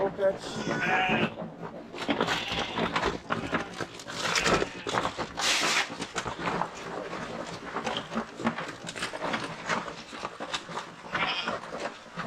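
Sheep bleat on a rainy farm during deworming, the calls mixed into busy handling noise and talk across the whole stretch.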